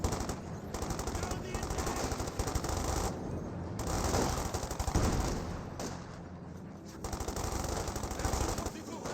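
Machine gun fire in Company of Heroes 2 rattles in rapid sustained bursts with a few brief pauses, loud and dense, while a commentator talks over the battle.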